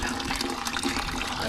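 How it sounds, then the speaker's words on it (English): Water drains from a car radiator after the bottom hose is pulled, a steady broadband splash and gurgle that runs without a break. "let the water drain before we make a mess"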